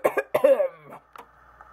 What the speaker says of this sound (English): Clearing my throat, which I do not have